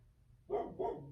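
A household dog barks twice nearby, two short muffled woofs about a third of a second apart, fairly quiet in a still indoor room.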